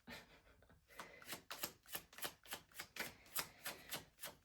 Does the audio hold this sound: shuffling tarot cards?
yes